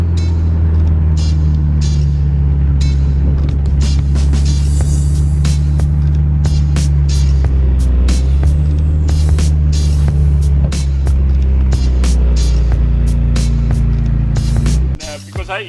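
Turbocharged car engine idling high because of a sticking throttle body, a steady, loud, close rumble that runs without a break until it cuts out near the end.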